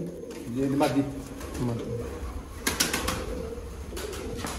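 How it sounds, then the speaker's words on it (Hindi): Old jaldar rooftop pigeons coo in low, throaty, rolling calls near a Sialkot pigeon loft while someone talks over them, with sharp wing flaps and clatter partway through. "छत वाले और जालदार पुराने कबूतर"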